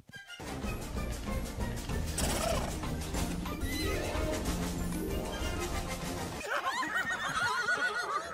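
Horses in an animated children's film neigh and whinny loudly and repeatedly, with hoof clip-clops. A dense soundtrack mix plays underneath, and the sound shifts to a busier, higher scene near the end.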